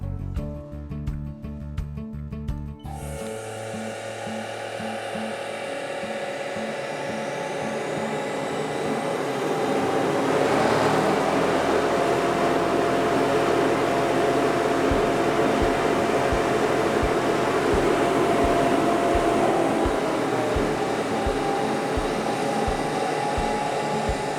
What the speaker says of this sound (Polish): przy tej prędkości wentylator będzie wydawał bardzo duży hałas